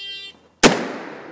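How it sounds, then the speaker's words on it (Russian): A single sharp gunshot at shooting practice, loud and close, with a sudden crack followed by a lingering echo tail; a steady tone sounds beforehand and cuts off just before the shot. "Отличный выстрел."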